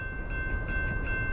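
A Norfolk Southern 62V garbage freight train of empty trash cars, led by locomotive 4562, rolls eastbound past at close range as a steady, heavy rumble with a faint high ringing tone.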